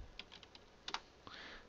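A handful of quick, quiet keystrokes on a computer keyboard, irregular taps in a short burst with no voices.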